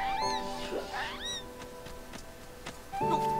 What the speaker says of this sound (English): Are you killing the mayor's cat?